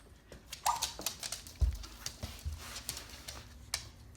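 A dog named Daisy barking at the front door after the doorbell, sharp separate yelps and barks in an uneven rhythm, fairly faint and close, with no talking.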